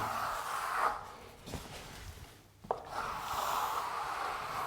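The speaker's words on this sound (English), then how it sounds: "then you can go over it with your fine trowel and just take the sponge marks out" Steel fine trowel smoothing sponged plaster on a wall to remove sponge marks, a soft continuous scraping rasp in long sweeping strokes with brief pauses, close and moderately loud with no talking.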